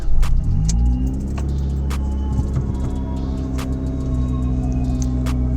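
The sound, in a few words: car engine starting up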